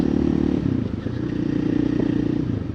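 A 2024 KTM EXC-F 500 TPI dirt bike with an FMF muffler pulls hard out of third gear, its engine note droning loud and steady with a brief dip partway through.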